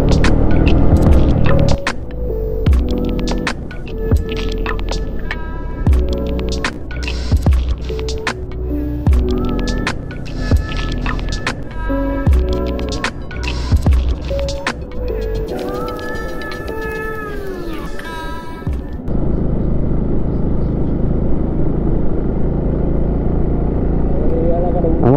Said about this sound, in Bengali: আস্তে আস্তে হচ্ছে উপরে থেকে উঠতেছি, যেটা আমার বাইকের সাউন্ড শুনেই বুঝতে পারবেন।